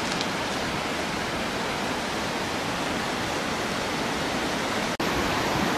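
A waterfall roars steadily outdoors, a dense, even rush of falling water that fills the whole stretch with no break except a brief dropout near the end; no voices.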